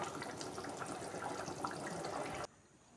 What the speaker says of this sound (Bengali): দেখো ঝোলটাকে এবার আমি ফুটতে দেবো